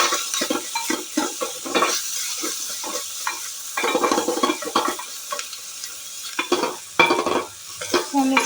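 Spoon stirring a spiced mixture with garam masala, a little sugar and salt in a pan while preparing seasoning for wheat dosa, with repeated scraping strokes and a light sizzle, close and fairly loud, no talking.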